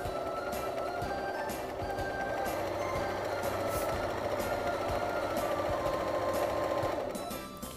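A sewing machine stitching through several fabric layers of a rice heating pad, a steady fast mechanical whir running close and continuously throughout.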